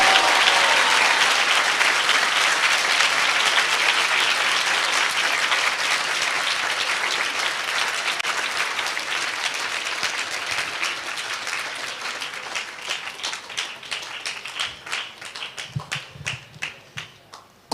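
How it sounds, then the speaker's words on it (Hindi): A church congregation claps in praise, starting as dense, loud, blended applause that gradually thins and quiets. It settles into a slower, more rhythmic clapping toward the end. "ताली बजा के प्रभु की स्तुति करें।"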